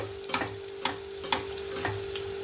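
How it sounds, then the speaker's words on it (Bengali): Bottle gourd and prawn koftas fry four at a time in hot oil, giving a soft continuous sizzle broken by a few sharp ticks and clatters from handling, with no voices. "আমি এখানে চার পিস চার পিস করে ভেজে নেব কোপ্তাগুলো"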